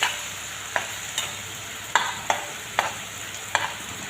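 Fish and onions fry in a pan with a soft, steady sizzle. A utensil scrapes and stirs it in light taps and clinks roughly every half second, close and fairly quiet, with no talking.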